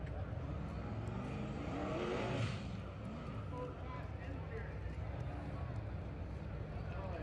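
An off-road race car at the 2018 King of the Hammers bounces over rocks as its engine revs hard in a sustained, distant roar, with commentary talking over it.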